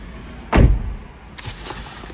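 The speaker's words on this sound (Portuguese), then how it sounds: "Deixa eu encostar aqui a porta." The door of a 2023 Toyota Corolla GR Sport closes with a single solid thump, followed by a faint latch click and soft rustling inside the cabin.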